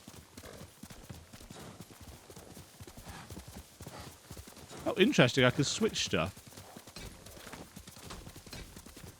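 A burst of rhythmic horse hooves clip-clopping in the video game Ghost of Tsushima, loud and close for about a second, with someone talking casually before and after.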